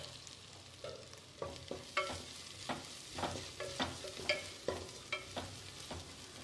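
A spoon stirring turmeric and garam masala in a pan, a series of distinct scraping strokes in a loose rhythm over a soft, steady sizzle, with no talk.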